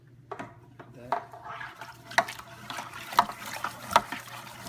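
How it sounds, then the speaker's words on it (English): A stir stick clinks and swirls through bentonite clay mixed into Grenache rosé wine kit must in a bucket, giving a series of light taps and liquid sloshes at a steady rhythm, close and fairly quiet. "I'll mix it in, and I have my sanitized stir that I'll stir it with."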